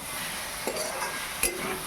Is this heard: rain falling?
no